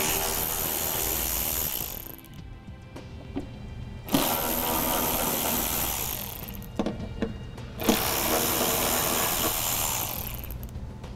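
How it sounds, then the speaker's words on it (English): Screws are backed out with a ratchet and 10 millimeter socket under a 2013 BMW 5 Series, giving three long runs of rapid ratchet clicking separated by short pauses, close and alone. "We'll then go ahead and remove our 3 screws using a 10 millimeter socket."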